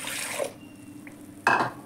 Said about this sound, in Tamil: இந்த மிக்சி ஜார்லேயும் கொஞ்சம் தண்ணி ஊற்றிக்கலாம்.